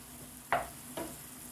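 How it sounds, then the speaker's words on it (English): Ketchup stirred into a frying pan: two short, faint scraping strokes about half a second apart, over a low, steady background hiss. "Yep, going to add a little ketchup, stir that in"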